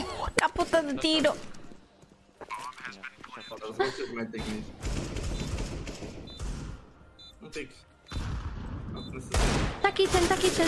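Bursts of rapid video game gunfire crackle in uneven volleys, mixed with excited voices talking over the shooting.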